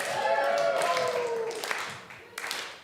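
An audience at a Sunday service of the Columbine Unity Spiritual Center cheers and claps in a dense, continuous burst that eases off toward the end, with voices mixed in.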